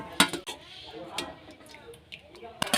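Boiled cauliflower is lifted out of its water onto a plate, with a few light clinks and taps of a utensil against metal and some soft talking nearby.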